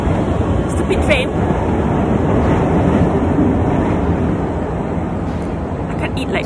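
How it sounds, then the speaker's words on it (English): A passing train fills the scene with a loud, continuous rumble and faint rhythmic clatter, holding steady before easing slightly at the end, with a voice faintly underneath. "stupid train."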